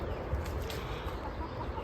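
A chicken clucks close by in a backyard garden, with a busy, noisy background and no speech.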